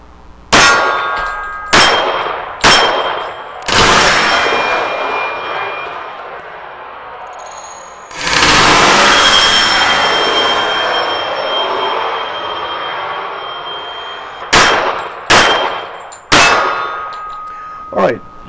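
A standard GI .45 ACP 1911 pistol fired in two groups of four sharp, loud shots, each with a ringing decay. Between the groups a jet aircraft roars past overhead, loud and sustained.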